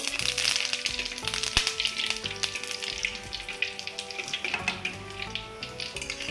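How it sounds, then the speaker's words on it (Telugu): Mustard seeds and curry leaves crackle and sizzle steadily in hot oil in a pan for bottle gourd fry, a dense close spitting hiss with scattered pops throughout. "ఆయిల్ వేడెక్కాక మళ్ళీ ఆవాలు, నెక్స్ట్ కరివేపాకు"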